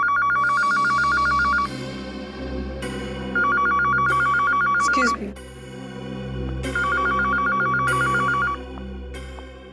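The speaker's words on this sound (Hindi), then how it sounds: "ये फोन की घंटी बिल्कुल सही टाइम पर बजी नहीं" An electronic telephone bell rings in repeated bursts with pauses between, loud and close, over a low hum; a voice speaks briefly.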